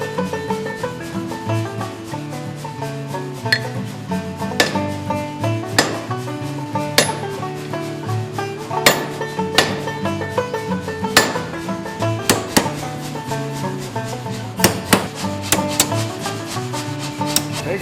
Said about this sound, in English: cut some marks with that tool which is called a hot cut